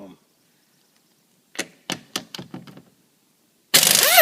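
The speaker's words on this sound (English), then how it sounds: "700 foot-pound capacity impact gun" Impact gun rated at 700 foot-pounds taking off a rear wheel of a C4 Corvette: a few short sharp rattling bursts, then a loud sustained hammering whine at the end, close to the mic.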